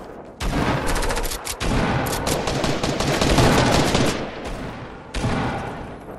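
Assault rifle fire in Fortnite rattles out in loud, dense bursts that nearly fill the stretch, cut by a couple of short pauses, close and harsh, with no talk.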